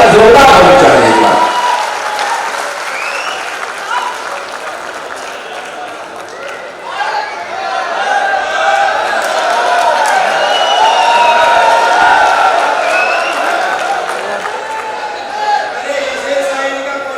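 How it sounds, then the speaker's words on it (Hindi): Audience applause at a Hindi comedy poetry gathering, a dense wash of clapping from a large crowd that swells, dips briefly, then builds again and carries on steadily to the end, with scattered cheering mixed in. "तालियां जोरदार होनी चाहिए।"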